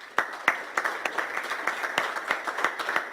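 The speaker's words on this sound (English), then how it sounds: "so please give him a round of applause" Lecture audience applauding a speaker, a steady patter of overlapping claps with a few sharper individual hits, moderately loud and continuous for a few seconds.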